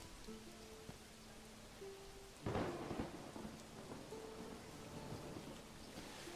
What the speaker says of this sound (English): The rain is so loud.